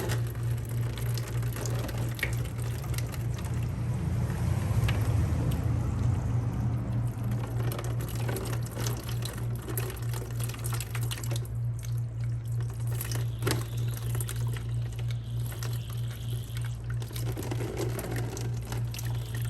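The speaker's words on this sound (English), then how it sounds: "crack that open and start draining the coolant" Coolant draining from the water pump bleeder of a Yamaha R6 motorcycle, a steady trickling and splashing stream of liquid that runs continuously with a low constant hum underneath.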